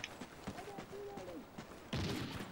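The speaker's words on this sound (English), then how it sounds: "I don't like those noises, they sound like snipers" Distant sniper rifle fire in Call of Duty: Ghosts, a muffled shot followed by a louder, sharper report near the end, with a voice speaking quietly underneath during the first half.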